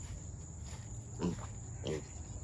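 Five-week-old American guinea hog piglets give two short grunting squeals about a second apart, moderately close, over a steady low rumble and faint high background hiss.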